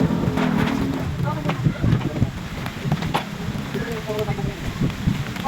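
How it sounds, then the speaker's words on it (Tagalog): Rain pours outdoors with gusts of wind while a five-tier wedding cake is being set up, the downpour hissing steadily under intermittent voices. "lumalakas na talaga yung ulan."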